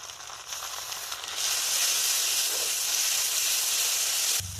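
Onion and ground spice paste sizzle in a hot pan, a steady loud hiss that swells sharply after the paste goes in, with no one talking.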